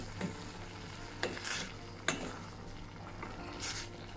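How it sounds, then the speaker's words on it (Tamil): Beans and black-eyed beans being stirred in a pan with salt for a curry, giving a few scraping strokes and clinks over a low steady hum and faint sizzle, near and fairly quiet, without speech. "எடுத்து வச்சிருக்கிற பிளாக் ஐ பீன்ஸையும் போடுறேன். அதையும் சேர்த்து நல்லா மிக்ஸ் பண்ணி விடணும்."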